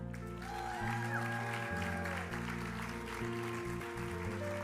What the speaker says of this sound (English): let's get the applause started tonight as we welcome the station manager of PBS Utah